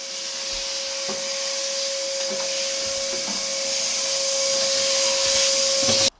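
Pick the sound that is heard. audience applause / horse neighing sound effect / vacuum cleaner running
vacuum cleaner running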